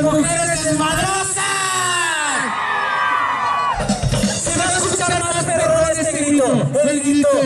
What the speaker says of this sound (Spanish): Sale el grito de todas las mujeres.